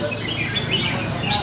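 A red-whiskered bulbul sings in a bird song competition in Sông Lô district of northern Vietnam, giving a brief, close, bright run of warbling chirps over faint background murmur.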